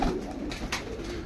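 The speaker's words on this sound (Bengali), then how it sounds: "তো এই হচ্ছে টোটাল 13 কালারের 15 জোড়া কবুতর, 30 পিস কবুতর।" A pigeon gives a short soft coo from a loft holding many pairs of domestic pigeons, faint and brief against a low background hum.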